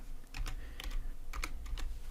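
Keys clacking on a computer keyboard while searching Blender 2.82 add-on preferences, in short bursts of several quick strokes with brief pauses, close and fairly quiet over a low steady hum.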